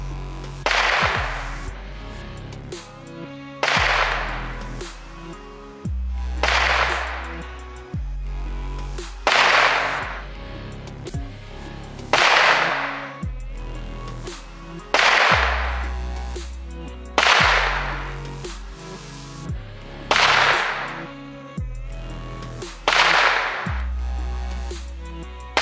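Sharp .22 rimfire shots fired one after another over a chronograph to compare barrel lengths, about ten loud cracks spaced a few seconds apart, each with a ringing decay, close and with no talking.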